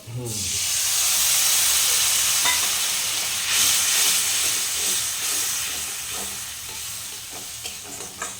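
Spice-washing water splashed into frying spices in a pan for a dumur (fig) curry, bursting into a loud, sustained hiss of steam and sizzle that slowly settles while stirring continues.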